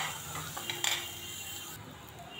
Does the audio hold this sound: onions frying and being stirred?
yes